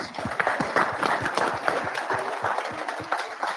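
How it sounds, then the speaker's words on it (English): A crowd of drivers at a driver meeting applauds together, a steady brisk patter of many hands clapping throughout, moderately loud and without a break. "So give yourself a round of applause, please."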